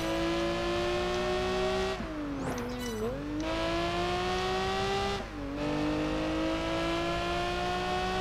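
A race car drifting in Project Gotham Racing 4, its engine held at high revs in a steady, loud whine. The pitch dips and recovers twice with brief tire scrubbing as the car slides through corners.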